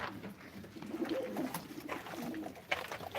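Pigeons at a live pigeon auction, including a red-eyed pigeon, coo softly in low, repeated murmurs, fairly faint and close, over a noisy background.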